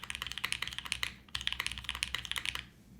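Rapid, steady typing on a HEX4B mechanical keyboard, crisp clacky keystrokes in two bursts with a short pause between, close and clear with no talking.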